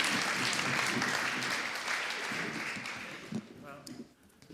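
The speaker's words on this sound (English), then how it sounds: "A round of applause for this discussion around Eastern Europe and the Balkan region." Audience applause closing a conference panel on drug policy and harm reduction, a broad crowd clapping that thins out toward the end, with faint voices underneath.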